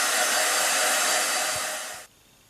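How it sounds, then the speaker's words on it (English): A handheld craft heat tool blows hot air over a card in a steady, loud hiss for about two seconds, then switches off abruptly, leaving near silence. "I'm going to dry this card because it's not ready to paint on yet. So use your heat tool"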